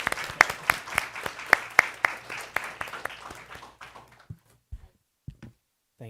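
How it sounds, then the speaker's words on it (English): A school board meeting audience claps, with sharp, distinct hand claps at first that thin into a few scattered, isolated claps before dying away. "So we can give her a round of applause"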